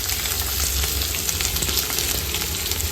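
Onion, garlic, ginger and cashews frying in a pan, a steady loud sizzle with crackling and occasional stirring, continuous and close with no voices.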